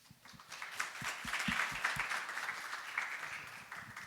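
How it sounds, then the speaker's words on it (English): Modest audience applause at a diabetes conference session, a soft, fairly distant patter of clapping that swells and then tapers off, with no talk over it. "So let's give a round of applause and a thank you to our friends at Novo Nordisk"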